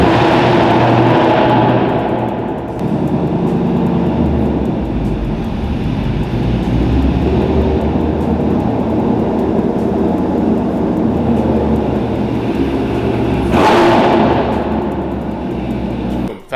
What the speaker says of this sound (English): I just realized how insanely loud this car is